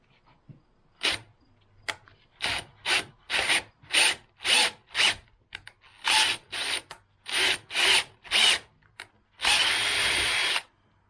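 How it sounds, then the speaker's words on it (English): A power drill drives a tap to thread a hole during lawn tractor repairs, a series of short whirring bursts in a steady stop-start rhythm, close and fairly loud, ending in one longer continuous run. "So I'm starting it with the drill, with the tap in it"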